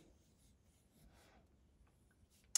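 A pencil sketches ovals on paper with faint, soft scratching strokes that come and go in short bursts in a quiet room, then end with a brief tap.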